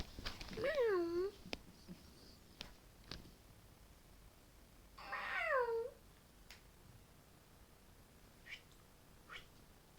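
A cat meows twice, close and fairly faint, with a short mew near the start and another about five seconds later, between small clicks and rustles.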